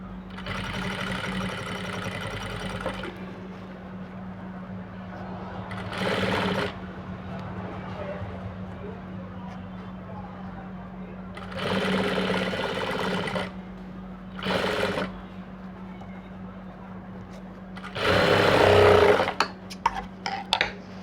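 A sewing machine stitches a lining onto an aari net blouse. It runs in several separate bursts of whirring, some brief and some lasting a few seconds, over a steady low hum.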